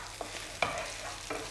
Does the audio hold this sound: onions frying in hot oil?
yes